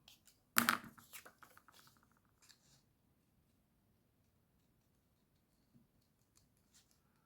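A sharp snip of scissors followed by a few smaller cuts through paper, then mostly quiet with faint rustles.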